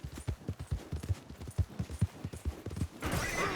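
Horse hooves clip-clop in a steady, fairly close rhythm in Red Dead Redemption 2, running continuously with a brief rush of noise near the end.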